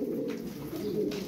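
Tumbler pigeons coo in a steady, low, continuous murmur from close by, with no talking.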